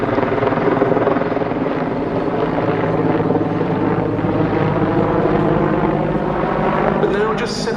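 Military helicopter flying at the Battle over Britain airshow, a steady loud rotor and turbine drone holding throughout, with a voice speaking over it.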